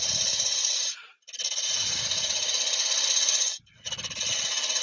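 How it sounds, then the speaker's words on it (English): A spindle gouge hollowing wood on a spinning lathe gives a steady, loud hissing scrape in long sustained passes, briefly broken twice as the tool lifts off the workpiece, with no talk. "So I'm just using my spindle gouge to start off with, the hollowing."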